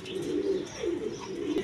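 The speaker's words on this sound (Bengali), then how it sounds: "দর্শকবৃন্দ এখানে এক পেয়ার গররা কবুতর আছে" A pair of black Gola pigeons coo in short, soft, repeated throaty phrases, close by and fairly quiet, with no talk.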